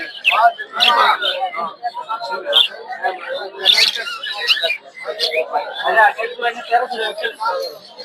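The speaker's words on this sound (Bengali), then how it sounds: "সুন্দর জোড়া বাজিগর পাখি দেখতে পাচ্ছি সব হচ্ছে বাচ্চা সহ" At a winter bird market, pairs of budgerigars with their young chatter and chirp in a busy, overlapping chorus of rapid high tweets close by, with people talking throughout.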